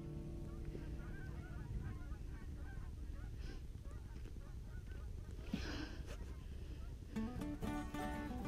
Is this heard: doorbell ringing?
no